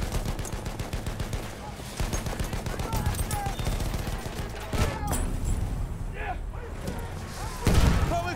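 Rapid bursts of machine gun fire and scattered gunshots in a Battlefield 1 battle around a Putilov-Garford assault truck, loud and continuous with booms, under shouted in-game voice callouts.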